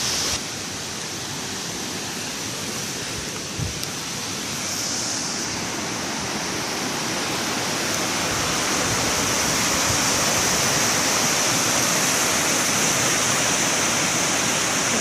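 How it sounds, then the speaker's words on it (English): A river waterfall pours steadily in a broad, continuous rush of water that swells slightly louder toward the end, close and unbroken, with no voices. "The very top of the waterfall here."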